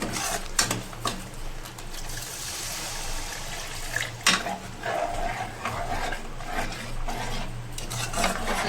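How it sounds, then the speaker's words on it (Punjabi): A glass of water is poured into malai kofta gravy in a home kitchen pan, giving a continuous splashing hiss with a few sharp scraping knocks along the way. "ਅਸੀਂ 1 ਗਿਲਾਸ ਪਾਣੀ ਪਾਇਆ ਔਰ ਅਸੀਂ ਗ੍ਰੇਵੀ ਨੂੰ ਚੰਗੀ ਤਰ੍ਹਾਂ ਪਕਾਵਾਂਗੇ"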